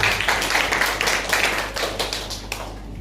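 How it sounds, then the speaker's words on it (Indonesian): A church congregation claps at a Paskah (Easter) service, a burst of rhythmic hand clapping for about three seconds that gradually fades. "Beri tepuk untuk Tuhan kita."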